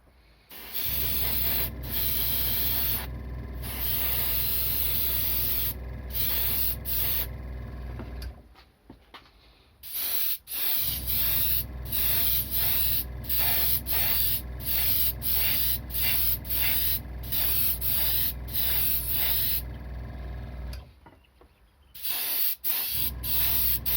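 Tamiya X8 lemon yellow paint sprayed from an airbrush onto a restored Dinky Toys Bedford AA service van, a steady loud hiss in long bursts broken by short pauses.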